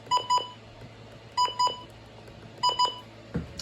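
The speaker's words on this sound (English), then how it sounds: "they also have the classic WR100 beeps like this." Three pairs of short electronic beeps from a WR100 weather alert radio sound at a steady, evenly spaced rhythm, clear and fairly loud over a low hum.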